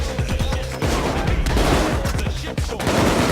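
Heavy gunfire in the video game Payday 2, with rapid bursts of shots crackling almost continuously and loudly, and a brief dip partway through.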